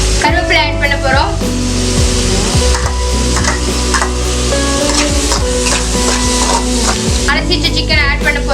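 Curry leaves and salt frying in a pan of oil for a spicy chicken gravy, a loud continuous crackling sizzle with occasional stirring, heard under loud background music with vocal tones at the start and end.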